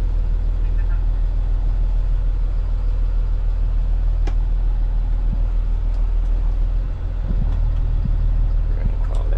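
A car reverses slowly into a parking spot in a yard, its engine idling in a steady low rumble close by, with a few faint clicks and a person talking over it.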